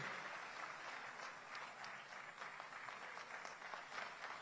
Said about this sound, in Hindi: जोरदार तालियां बजाकर स्वागत करेंगे